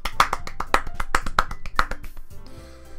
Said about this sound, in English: Everyone applauds.